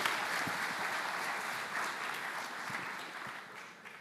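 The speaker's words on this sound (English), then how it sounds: "Applause for them." Audience applause at a QA conference, a steady wash of many hands clapping at moderate distance, fairly even throughout with a slight fade toward the end.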